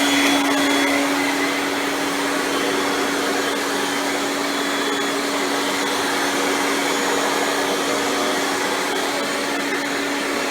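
A 2001 Kirby G6 Limited Edition upright vacuum cleaner roaring steadily at high speed, a loud, constant whine with a broad rushing hiss, close by and uninterrupted.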